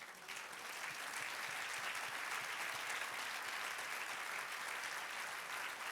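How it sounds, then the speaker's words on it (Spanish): A church congregation applauds, sustained dense clapping from many hands, steady and fairly distant. "Dale un aplauso al Señor."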